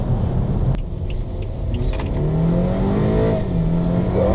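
A BMW 328i Gran Turismo accelerates hard in sport mode, its engine note climbing steadily through the revs with a loud, continuous rumble and a brief shift partway through. No talking.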